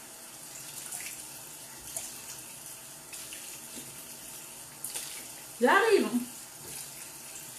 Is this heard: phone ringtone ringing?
no